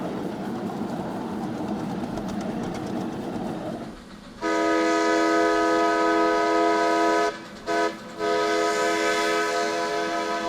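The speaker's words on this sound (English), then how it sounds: "A favorite moment is the big toot, when all participants sound their whistles at the same time" Miniature train whistles sound together at a hobbyist gathering. After a rumbling, clattering stretch, a loud, sustained chord of whistles begins. It breaks off briefly twice and then resumes at full strength.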